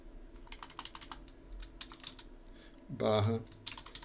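Rapid clicking keystrokes on a computer keyboard as a form field is filled in, close and uneven bursts, with a voice speaking Portuguese briefly over part of it.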